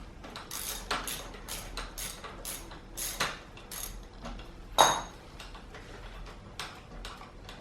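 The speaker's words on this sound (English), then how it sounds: "Once the bike is leant over, you can go ahead and remove the drain plug." The drain plug is loosened and removed from a 2017 KTM 250EXC motorcycle leaning on its side. Quiet ratcheting clicks and metallic ticks come in an irregular series, close and faint, with no talking.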